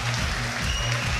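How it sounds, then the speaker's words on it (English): Crowd at a Levels Fight League event erupting in wild cheering and applause after a first-round knockout, a dense, steady roar that fills the whole moment. "the crowd goes wild"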